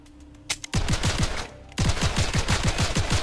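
Rapid automatic gunfire from a gun in the video game Seraph comes in two bursts of evenly spaced loud shots, after a short click.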